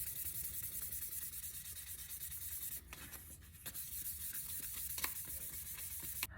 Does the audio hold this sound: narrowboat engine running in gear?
no